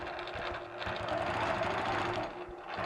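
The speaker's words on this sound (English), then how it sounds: "I'm going to quilt the entire star this time" A sewing machine quilts a fabric star, its needle running in a fast, even mechanical chatter that stays close and steady with no voices.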